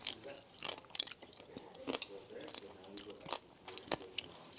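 Close, crunchy chewing of crispy roasted pork belly, with crisp bites and crackles repeating irregularly and soft voices murmuring in between.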